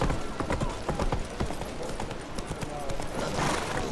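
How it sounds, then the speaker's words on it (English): Horse hooves in The Witcher 3 clip-clopping at a steady riding pace, with a quick rhythmic beat under game ambience and someone talking over it. "I hate riding this horse."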